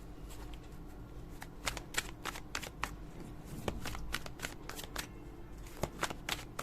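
Tarot cards being shuffled by hand, a soft steady rustle broken by repeated crisp riffling snaps and slaps at close range, alone without talk.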